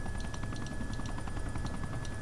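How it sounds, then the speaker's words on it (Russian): Helicopter rotor in the ArmA 2 combat game, a steady chopping thrum with a constant high tone running through it, sustained and moderately loud throughout with no talk. "Еще вертолет."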